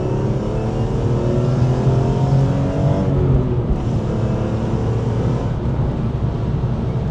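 A BMW E46 M3 engine revs steadily and loudly, a continuous close-up engine roar with rising and falling harmonic sweeps, alone with no voices.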